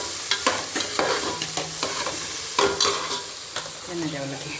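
Bitter gourd pieces frying in oil with salt, a spatula scraping and stirring the pan in repeated strokes over a steady sizzle, close and clear with no talking.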